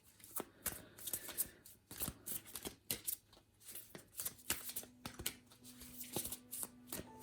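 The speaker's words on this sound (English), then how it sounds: "let's pull some more cards and see" Tarot cards being shuffled and pulled, a close run of crisp riffling flicks and soft slaps in an uneven rhythm, fairly quiet with no talk.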